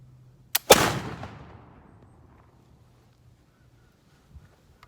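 A single muzzleloader rifle shot fired into a log outdoors, a sharp loud crack with a brief lead-in click and a long booming decay into near silence, followed by a faint distant thump.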